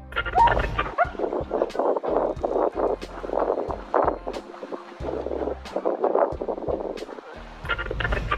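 Two dogs barking repeatedly outdoors by a lake, sharp loud barks in an uneven rapid series over wind noise and water.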